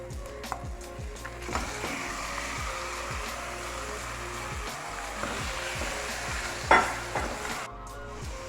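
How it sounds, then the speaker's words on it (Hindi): Chicken fries in oil in a pan, a steady close sizzle broken by repeated scraping and stirring strokes, with a brief sharp clink near the end. "3-4 मिनट के लिए मैं चिकन को ऐसे ही ऑयल के अंदर भूनती रहूँगी"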